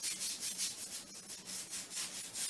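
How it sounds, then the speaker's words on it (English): A brush scrubbing cleaner into tile grout lines, giving a steady back-and-forth scratchy rubbing in regular strokes, close and moderately quiet with no voices. "just want to start rubbing in, brushing the grout line"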